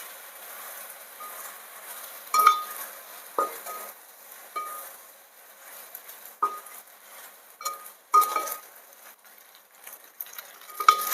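Pasta with green chilli, chilli powder and spices stirred in a pan, heard as sparse spoon scrapes and clinks on the pan over a faint sizzle, with no talk.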